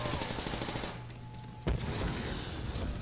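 Dense video-game gunfire from Call of Duty custom zombies, with a steady stream of shots and one sharper, louder crack near the middle. No voices are heard.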